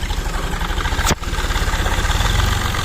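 A loud, close Fiat 480 tractor engine chugs in a rapid, regular rhythm, with a brief sharp click partway through, and no one speaking.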